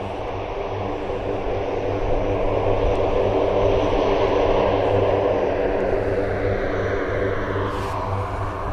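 A propeller aircraft at an airfield produces a continuous, fairly loud engine drone with a steady hum that swells slightly and then eases, heard alone without talk.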